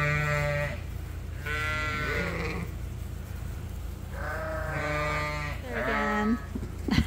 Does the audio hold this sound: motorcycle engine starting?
no